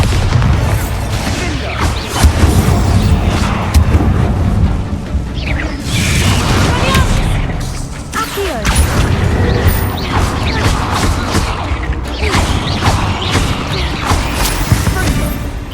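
Bombarda blasting spells erupt repeatedly in the Hogwarts Legacy video game, loud booming blasts and crashing debris following one another over a sustained rumbling battle din, close and forceful throughout.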